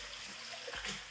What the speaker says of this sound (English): so we're gonna go ahead and drain those